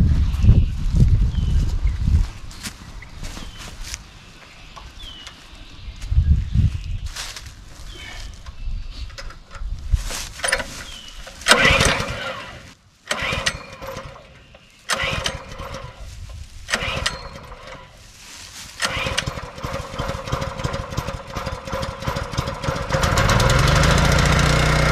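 A small 208 cc engine on a hydraulic log splitter cranks with pulls and then runs, a rough mechanical clatter with bursts and gaps, close by, and the engine settles into a steady run near the end.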